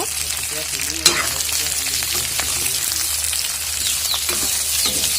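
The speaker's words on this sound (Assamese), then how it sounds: "আৰু অকণমান দেৰি মই এনেকৈ ভাজি ল'ম আলুৰ লগত মাংসখিনি" A loud, constant sizzle of meat frying with potatoes in a pan, with stirring scrapes and a sharp clink near the start.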